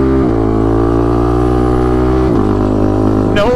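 Adaptive ATV built for an amputee veteran, its engine droning loud and steady with a clean no-lift upshift, a dip in pitch, then a quick blip-rising downshift at the end; no talking.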